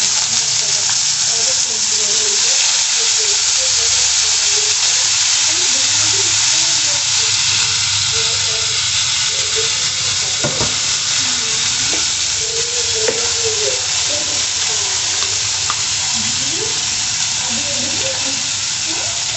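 Potatoes sizzle and fry steadily in a pan for aloo bhujia, with occasional stirring scrapes and clinks over a dense, continuous frying hiss throughout, close and fairly loud.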